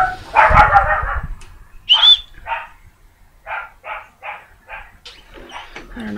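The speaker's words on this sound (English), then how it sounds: "I don't know who she's barking at." A dog barks repeatedly indoors, one loud bark followed by a string of sharper, evenly spaced barks and yips, fairly close with no talking over it.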